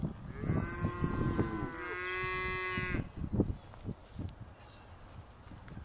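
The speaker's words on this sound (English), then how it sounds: "Cattle. They're in good flesh." Young black spring-calving beef cows on grass: two long, close, loud moos back to back, then quieter shuffling and faint rustling noises in the open air.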